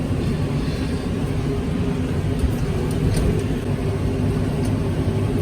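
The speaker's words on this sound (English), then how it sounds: "There goes a spray plane." A crop-spraying plane passes over drought-stricken farm fields, its engine a steady, droning roar that holds loud and even throughout with no talking.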